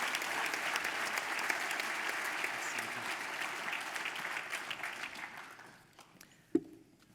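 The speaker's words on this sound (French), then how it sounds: "Une bonne main d'applaudissements pour les deux boursiers de la Fondation de l'UQTR, Jeffrey Rochon." Applause from an audience at a sports awards gala, a dense sustained round of clapping that tapers off and stops near the end, followed by a single sharp knock.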